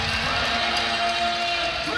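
Basketball arena crowd at an NBL Canada finals game between London Lightning and Halifax Hurricanes, a steady roar of cheering and shouting with whoops rising over it, faint voices mixed in.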